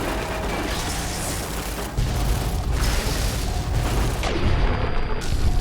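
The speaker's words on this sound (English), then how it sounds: "All these explosions make it a little hard to see." Rumbling booms from battle explosions in Fallout: New Vegas at the Ashton missile silo, a dense continuous roar of blasts and debris that swells louder partway through, with no talk.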